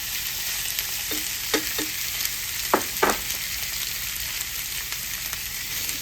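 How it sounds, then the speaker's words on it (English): Thin-sliced leftover corned beef warms in a skillet with a constant, close sizzle, broken by several distinct taps and scrapes of a utensil against the pan. "I wanna warm my meat up in the skillet here"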